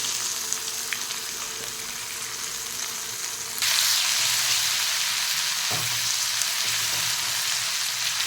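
Ginger-garlic paste drops into hot oil already holding cumin and asafoetida, the steady frying hiss jumping to a louder, brighter sizzle partway through, with a couple of faint utensil knocks and no talk.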